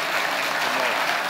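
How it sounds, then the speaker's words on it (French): Audience applause fills a civic hall at a mayor's New Year wishes ceremony in Gournay-sur-Marne, a dense, steady patter of many hands clapping at close range without a break. "Les applaudissements, c'est très très rare."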